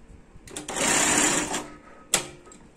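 A sewing machine stitches fabric for patchwork quilting in one close, steady whirring burst of about a second, followed by a sharp mechanical click.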